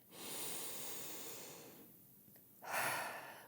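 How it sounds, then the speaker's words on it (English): A long, slow breath drawn in and let out during a calm mindfulness art session, soft and steady, followed after a short pause by a stronger, louder exhale. "take one more deep breath"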